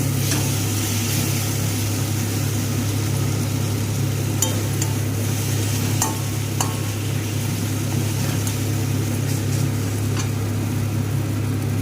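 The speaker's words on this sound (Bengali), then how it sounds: "সমস্ত মশলাকে একসাথে কষিয়ে নেব ভালো করে" Spices with coriander powder frying and being stirred in an oil-filled pan, a steady close sizzle over a low hum throughout, with occasional sharp scrapes and clinks of the spoon against the pan.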